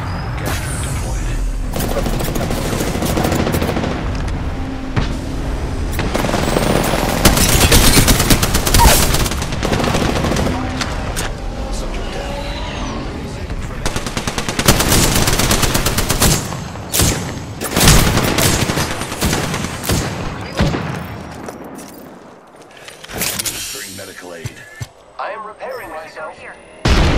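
Heavy gunfire in an Apex Legends battle: loud automatic bursts and booming shots pile up and overlap, thinning out toward the end, with speech mixed in throughout.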